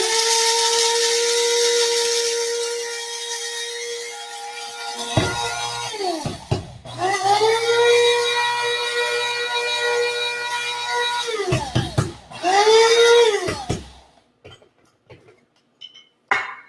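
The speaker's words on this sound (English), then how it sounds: "I'm just putting this in my little coffee grinder" A loud electric coffee grinder whirs steadily while grinding, its motor pitch dipping and rising as it stops and restarts in short bursts before going quiet.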